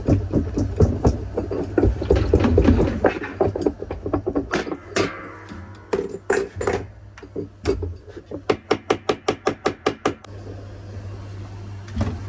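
Sharp metallic hammer-on-chisel strikes ring out repeatedly while working on a Maytag Bravos washer, first in uneven clusters, then in a fast regular burst of blows, close and loud.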